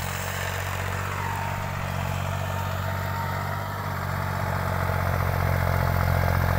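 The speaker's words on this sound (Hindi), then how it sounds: "साठ एचपी का ट्रैक्टर है भाई वो" A Deutz Fahr 603 four-wheel-drive tractor of 60 hp runs with a Jaswant super seeder in a field, its engine a loud, steady, close drone with a deep low rumble that holds level throughout.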